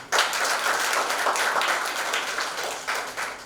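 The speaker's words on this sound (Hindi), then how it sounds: "उनके लिए ताली बजाइए।" An audience applauds a film's lead actor at a poster release event, several seconds of dense, sustained clapping from a crowd with no voices over it.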